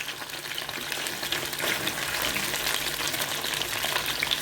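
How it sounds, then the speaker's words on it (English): Fish fries in hot oil on high heat for a Jamaican brown stew, with a steady, close, dense sizzle and crackle running without break and no talking. "So you are going to allow the fish to fry brown on each side."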